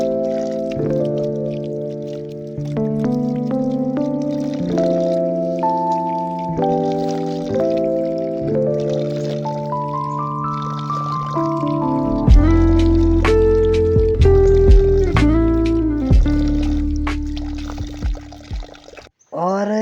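Water pours from a water line into a vessel for drinking, a steady gushing whose tone climbs as the container fills, continuing strongly for most of the stretch before cutting off near the end.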